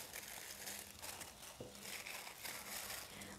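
A knife dices ripe jackfruit flesh into small cubes, producing faint, soft crunching and crinkling with a sharper single click midway.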